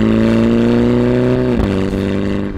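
A Mini John Cooper Works sports car engine idles with a deep, throaty exhaust burble, dipping briefly in pitch midway before settling into a steady loud rumble.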